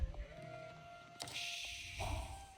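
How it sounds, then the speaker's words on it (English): Sheep bleating in the Age of Empires 4 strategy game, a few short bleats against a soft in-game ambient background, with no talking. "we're picking up these couple of sheep here"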